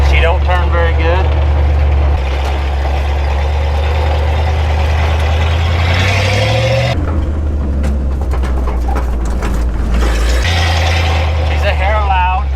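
International truck running after a motor swap, its engine a loud, steady low rumble that climbs in pitch as it revs, with voices talking over it inside the cab during a test drive.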